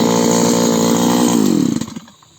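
A cheap small two-stroke earth auger engine runs at a steady high buzzing pitch close by, then cuts out and sputters to a stop near the end.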